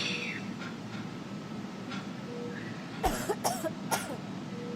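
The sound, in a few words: loud coughing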